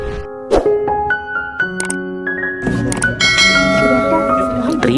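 A bright notification bell sound effect rings out in a quick series of chiming tones, layered dings stacking up near and loud over a busy, musical background.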